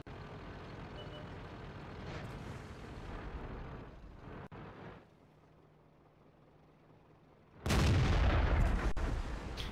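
Tank gun shots in the video game World of Tanks: loud booming blasts with a sharp, heavy report near the end, over a rumbling engine and battle background.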